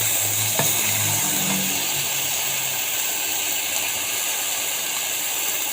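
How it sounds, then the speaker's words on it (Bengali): Onions frying in a pan until browned, a steady hissing sizzle holding evenly throughout, moderately loud and close, with no talking. "ভালো করে লাল করে ভেজে নিব"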